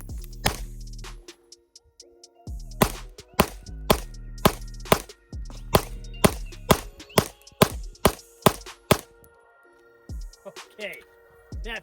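A Sig P226 X Legion pistol fires at a range, giving a series of sharp, loud, close reports spaced irregularly and speeding into a quick string near the end, with someone talking between shots.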